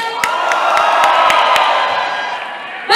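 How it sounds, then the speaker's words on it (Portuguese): A rap battle audience at RapInCena roars and shouts for the rapper Nego Drama, a loud sustained crowd cheer with scattered whoops and claps, swelling again at the end. "Barulho pra Nego Drama."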